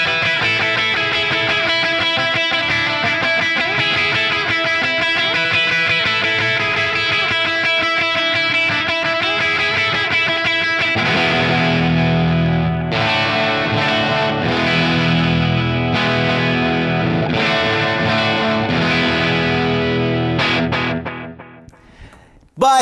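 Electric guitar fitted with Tone Specific 1971 Punch Telecaster pickups plays shimmering, effects-laden chords and notes with chorus and light drive, loud and close throughout, then thins out and decays near the end.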